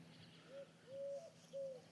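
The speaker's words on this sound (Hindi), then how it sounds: "पक्षियाँ की चहचहाट आप देख सको हो" Birds calling over green farm fields near Meerut, three soft cooing, slightly rising notes at an even pace, faint and fairly distant against quiet background.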